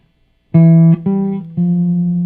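Three clean sustained guitar notes are played one after another in a stepwise figure, each ringing clearly with nothing else underneath.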